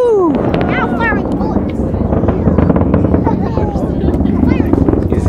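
A Falcon 9 rocket launching from Vandenberg Air Force Base gives off a loud, continuous crackling rumble that fills the air while onlookers talk and cheer over it.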